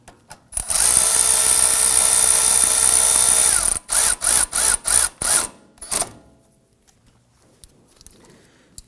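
A power tool spins steadily for about three seconds while snugging a brake line bracket bolt on a Ford F-150. It is followed by five short, evenly spaced ratcheting bursts, loud and close.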